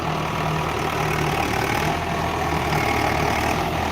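A tractor engine idles at a poultry farm with a constant low, throbbing rumble, unchanging and close for the whole stretch.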